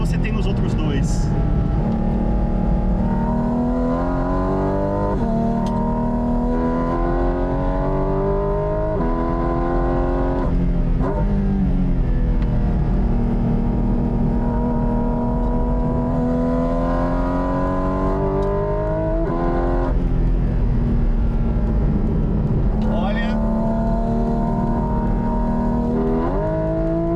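A car engine roars loudly and continuously while driving, rising in pitch through repeated accelerations and dropping back between gear changes, close and dominant throughout.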